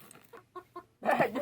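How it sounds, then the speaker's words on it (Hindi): Several chickens cluck close by in short, separate bursts, followed by a louder, denser run of squawking and clucking from the birds. "वो तो जा रही है मुर्गियाँ।"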